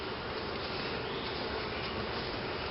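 Honey bees swarm over an open hive during an inspection, making a loud, dense, unbroken buzz close by, with no speech.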